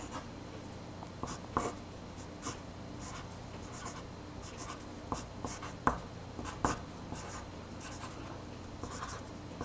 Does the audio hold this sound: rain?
no